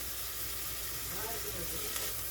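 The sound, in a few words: sautéing vegetables for tomato bisque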